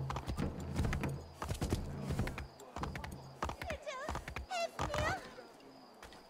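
Horse hooves clip-clopping in Assassin's Creed III, a quick irregular patter of hoofbeats under faint game ambience, with a whinny and voices talking over it.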